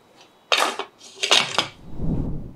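Pressure cooker holding soaked rice and dal for arisi paruppu sadam being closed: two close metallic clanks of the lid and weight being set in place, then a soft rustle, with no talk.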